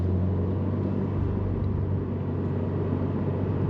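A Subaru WRX with a CVT automatic gearbox drives along, its engine a steady, low droning rumble heard from inside the cabin, even and continuous throughout.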